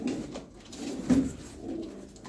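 Soft, low coos from pigeons, including a smoky-grey Turkish tumbler, sound nearby in a few muffled, rolling bursts.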